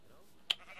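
Single short sheep bleat from Minecraft, faint and brief, heard once amid quiet background.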